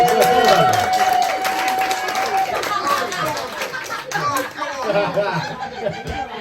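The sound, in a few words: pub audience applause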